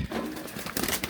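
A pigeon coos softly in short, low murmuring calls, with a faint rustle of movement close by.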